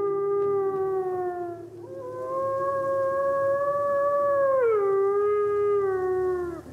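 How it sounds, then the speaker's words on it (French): A wolf howls at nightfall in the Southern Alps: one long, loud, sustained wail that holds steady, then slides down in pitch near the end, with no other sound. "Un homme cherche ceux qui hurlent ainsi à la nuit tombante."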